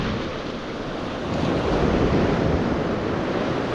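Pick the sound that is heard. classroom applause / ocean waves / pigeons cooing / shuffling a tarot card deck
ocean waves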